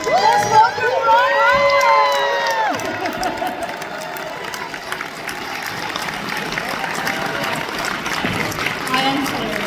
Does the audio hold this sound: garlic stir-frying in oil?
no